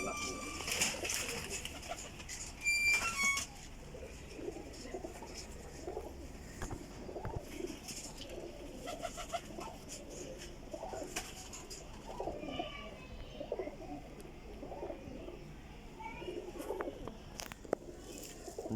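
Pigeons, prized flying birds, coo repeatedly in soft rhythmic bursts close by, with a few chirps and brief wing flaps, while someone speaks over them at the start.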